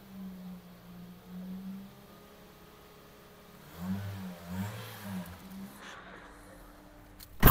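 A car engine, warmed up before a transmission oil change, idles then revs toward 2,000 RPM, its low steady drone rising into a louder, pulsing whir partway through before a sharp click at the end.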